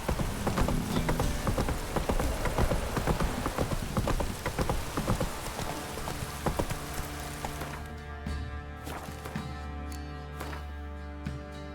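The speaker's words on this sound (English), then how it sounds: "This downpour's a bastard" Dense rain from a video-game downpour in The Witcher 3: Wild Hunt patters continuously, mixed with hoof clops and clattering, loud at first and then thinning slightly.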